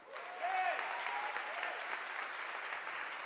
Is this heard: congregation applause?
yes